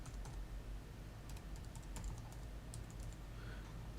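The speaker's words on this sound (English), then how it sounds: "I'm going to type on the keyboard." Steady typing on a Bluetooth keyboard with irregular clicky keystrokes over a low background hum, fairly close, no voices.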